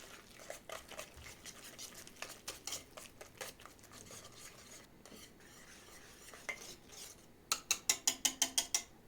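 Cottage cheese being stirred into cookie dough in a bowl, a run of irregular clicking and scraping strokes, faint and close, ending in a quicker burst of sharp rhythmic knocks.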